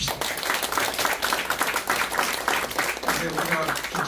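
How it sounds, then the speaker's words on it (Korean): An audience at a Korean lecture on natural medicine breaks into dense, steady applause that fills the whole stretch at moderate loudness, with voices mixed in under the clapping. "오늘 강의를 너무 열심히 해서 박수 한번 더 치십시오."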